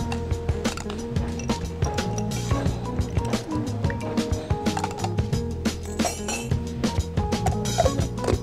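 Ice cubes clink and rattle into a blender already holding drink ingredients, a rapid run of sharp clinks over steady background music.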